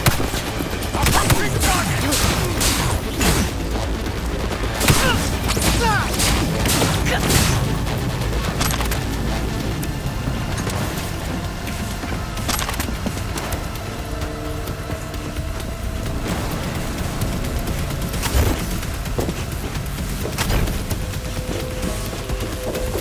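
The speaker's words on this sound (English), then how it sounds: "Keep shooting!" Gunfire crackles through a Cyberpunk 2077 shootout: dense, rapid bursts of shots in the first several seconds, then scattered single cracks and explosions over a continuous backdrop of combat noise.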